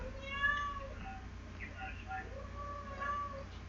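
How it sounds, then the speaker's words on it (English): A pet cat meows repeatedly and insistently indoors, several drawn-out yowls close by, heard over a low steady hum in a quiet room. "my cat's going off now."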